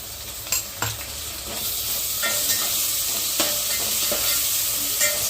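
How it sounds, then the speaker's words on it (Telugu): Onions, green chillies and carrots fry with ginger paste in a pan for a mushroom-style biryani base, giving a steady close sizzle with a few stirring scrapes and clinks, no voices. "ఎర్రగడ్డలు, పచ్చిమిరపకాయలు, క్యారెట్లు అయితే మంచిగా ఎగినాయి. అల్లం పేస్ట్ వేసుకొని ఎంచుకున్నాము."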